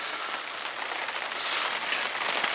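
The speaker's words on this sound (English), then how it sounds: "it's just started raining" Rain falling steadily at a carp fishery, a dense close patter on surfaces that grows slightly heavier, with no voices.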